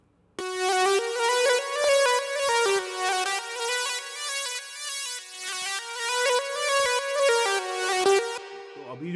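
Synth or keyboard music with its frequencies cut back by EQ in FL Studio, played as a steady stream of sustained, harmonically rich notes that shift every second or so, alone with no talking, stopping abruptly near the end.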